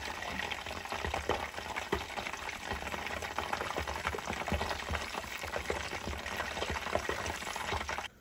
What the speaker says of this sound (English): And let those fry.